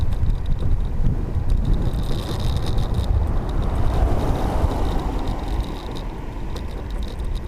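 Headwind blasts across the microphone while someone rides an electric scooter up a mountain pass. It is a steady, close, rumbling wind roar with gusty buffeting throughout.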